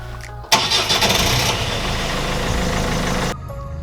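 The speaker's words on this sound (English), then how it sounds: "So let's now start the engine and see if the lights are going to work." A car engine cranks and catches with a sudden loud start, then settles into a steady, fairly loud idle before cutting off abruptly.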